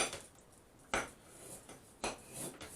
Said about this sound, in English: Now I'm going to cut the top and the bottom off the parsnips here.